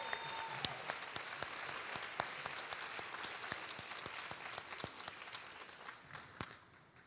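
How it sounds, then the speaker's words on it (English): An audience at a school district's Teacher of the Year ceremony applauds the teachers' families and supporters, with steady clapping and distinct sharp claps over a sustained crowd wash that gradually tapers. "Let's give them a round of applause."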